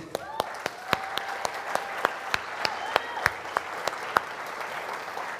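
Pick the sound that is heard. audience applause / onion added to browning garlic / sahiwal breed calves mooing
audience applause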